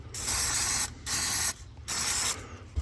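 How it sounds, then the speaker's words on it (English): Three long hissing bursts of spray paint from an aerosol can, applied to a steel part on a 1964 Ford Galaxie, each burst close and steady, separated by brief pauses. "I better spray some paint on here."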